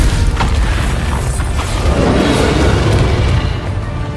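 Booming blast of the Bombarda explosion spell in Hogwarts Legacy, a loud, dense rumbling burst that fills the moment with low, sustained thunder and crackle.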